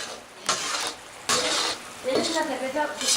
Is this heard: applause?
no